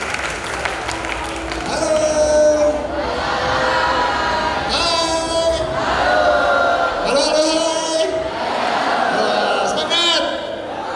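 Sustained audience applause and crowd noise welcoming a speaker at a talk show in Surabaya, loud and continuous for several seconds with music and a voice mixed in.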